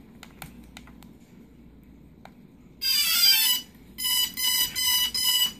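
An FPV transmitter on a Phantom 2 drone powers up: faint clicks first, then a loud, shrill, sustained electronic beep followed by four shorter repeated beeps, close and clear.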